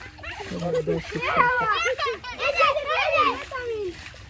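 Water splashes and sloshes in a pond as boys catch fish by hand, mixed with excited children's voices and shouting that run throughout.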